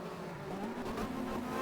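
A Citroën BX touring car races around the Barcelona circuit in a 1990 World Touring Car round, its engine droning steadily at mid distance with a continuous roar and no voices over it.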